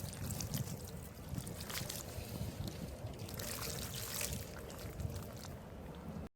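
Water showers onto potted pineapple plants set in a tray, making a steady close splashing and trickling patter that runs unbroken for several seconds at a moderate level, with no speech.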